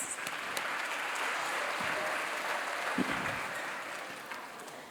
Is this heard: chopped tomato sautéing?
no